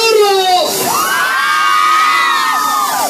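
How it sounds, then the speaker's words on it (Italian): A crowd of children screams loudly and continuously on a fairground ride, a dense sustained shriek with rising and falling pitch held for several seconds. "Mi fate sentire l'urlo?"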